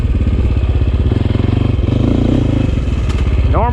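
A Sherco 450 four-stroke dirt bike engine runs loud and close on a trail, a steady throbbing chug with gritty mechanical clatter throughout and a rising rev at the very end.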